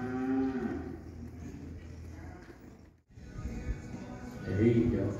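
Cattle low and moo at a ranch cutting clinic, a couple of bellowing calls near the start and end over steady arena noise and a rider's movement, with a brief gap of near-silence midway.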